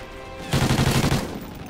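Rapid, loud gunfire from the Warhawk video game bursts in about half a second in, rattling in quick repeated shots for roughly 0.7 seconds before cutting off to quieter background.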